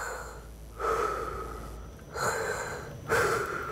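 A voice imitates the Michael Myers mask breathing sound: three slow, heavy, raspy breaths in a steady rhythm, close and loud, with no talk over them.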